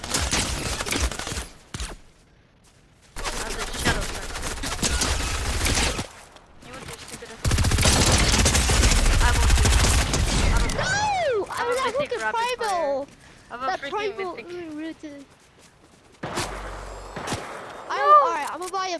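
Bursts of gunfire from guns in the Roblox-style game Lucky Block, loud rapid volleys separated by short gaps, with voices talking between and over the shots.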